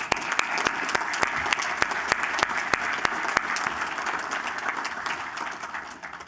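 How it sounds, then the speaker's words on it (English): Audience at a US Coast Guard Auxiliary national board meeting giving a round of applause, dense, steady clapping from many hands with crisp individual claps standing out, sustained for several seconds and tapering off at the end. "I just want to give them a round of applause for all of that"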